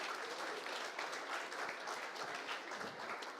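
Audience applause for panelists at a national seminar dialogue panel in Colombia, a steady wash of many hands clapping, fairly faint and even throughout with no talk over it.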